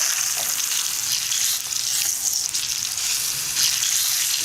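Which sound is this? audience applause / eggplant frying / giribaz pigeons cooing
eggplant frying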